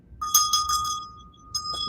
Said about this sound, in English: let's ring a little bell.